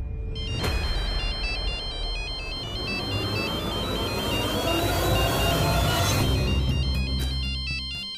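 A phone rings on and on without being picked up, a steady electronic ringtone pattern repeating for several seconds over a dense, loud musical background score.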